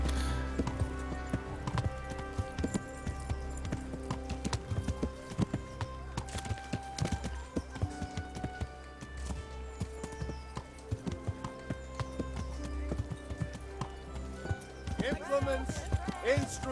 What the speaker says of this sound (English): And using the horsey as is.